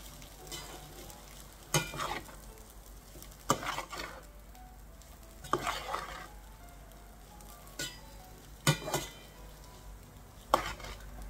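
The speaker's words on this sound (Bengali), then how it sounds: "চিড়েটা দিয়ে নিই। এবারে আমরা এটাকে একটু চালিয়ে নেব।" Flattened rice (poha) stirred in a pan for pulao, with a faint sizzle underneath and periodic scraping clicks of the spoon against the pan roughly every two seconds, close and fairly soft, no voices.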